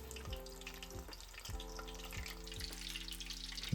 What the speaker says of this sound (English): The tip is to deep fry them over high heat for a short time.